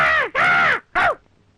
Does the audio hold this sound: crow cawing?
yes